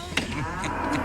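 An ox moos in a low, drawn-out call during a story about a bullock cart that overturned and was pulled upright again. The call sits over a dense, steady background and is close and moderately loud, with no talk over it.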